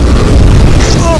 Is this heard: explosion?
yes